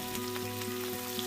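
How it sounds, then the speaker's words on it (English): Onions, shallots and Chinese large scallions roast slowly in a pan over medium-low heat, giving a steady close sizzle with soft crackles and a faint low hum beneath for a little over a second. "On medium-low heat, slowly roast all vegetables"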